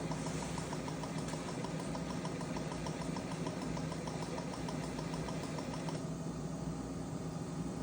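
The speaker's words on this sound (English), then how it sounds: "you just hit the prime button, and it's going to prime this top half of the tubing now, and it's going to force all the air out" A Belmont infuser pump primes its tubing to push the air out, giving a steady mechanical hum with a faint rhythmic ticking throughout, close and continuous with no voices.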